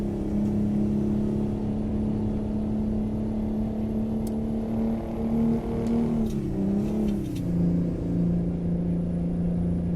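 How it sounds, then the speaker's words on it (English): A Mack RS700 truck engine in American Truck Simulator hums in a deep, steady drone, dipping and rising in pitch around a gear change before settling lower; close and continuous, with no talk. "this truck, it really sounds good"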